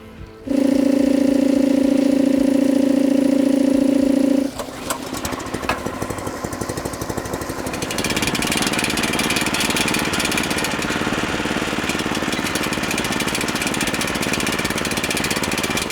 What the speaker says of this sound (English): So let me go turn on my air compressor, and we'll get her hooked up.